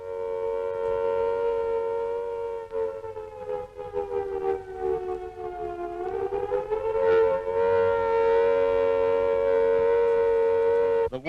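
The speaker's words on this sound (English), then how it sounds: "When you hear these warning sirens" A wartime civil defense air raid warning siren from 1939 Britain wails steadily and loudly, its pitch sagging and rising in a long continuous tone that fills the whole stretch with no talk.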